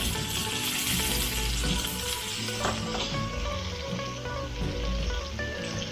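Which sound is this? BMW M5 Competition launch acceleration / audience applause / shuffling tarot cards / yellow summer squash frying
yellow summer squash frying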